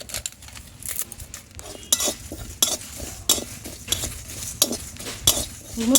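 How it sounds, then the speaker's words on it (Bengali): Cumin, coriander seeds and dried chillies dry-roast in a pan, stirred with a metal spoon in quick, uneven scraping and clinking strokes, close and continuous with a faint sizzle and no talking. "এটা আমার একটু ভেজে নেবে রোস্ট করে নেবে"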